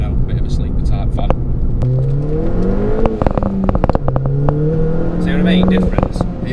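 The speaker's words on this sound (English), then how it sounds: "you can downshift and you get that two little light or three burbles" A Ford Fiesta ST engine drops in pitch on a downshift, with a few sharp exhaust pops and burbles over a loud cabin rumble while people talk over it.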